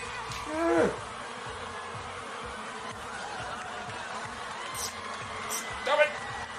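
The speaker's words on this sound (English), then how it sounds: "VB Fiends is releasing the bees." A buzzing swarm-of-bees sound effect set off by a viewer during a Guardians of the Galaxy pinball livestream, droning steadily throughout beneath excited talk and laughter.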